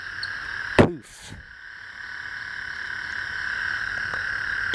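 Toads trilling at night in Texas, a steady high-pitched chorus running throughout, with a brief sharp knock or thump near the start.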